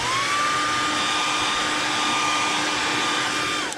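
A heat gun blows steadily and loudly while drying paint on a red crawfish crankbait lure, a constant whooshing roar with a whining tone that cuts off at the end.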